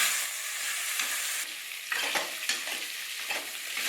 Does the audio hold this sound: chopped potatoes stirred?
yes